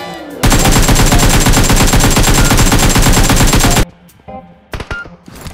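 A sustained, rapid burst of automatic gunfire in PUBG roars for about three seconds, loud and close, followed by a few scattered shots and clatter.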